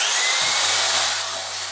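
A power tool makes a cut in a workshop with no dust extractor running, a loud, steady broadband whine that drops in pitch partway through and continues without any talk over it.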